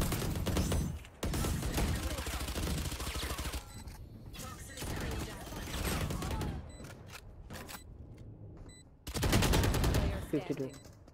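Rapid bursts of video game gunfire from Valorant crack through repeatedly, loud and near, separated by brief quiet gaps, with a player's voice talking over parts of the action.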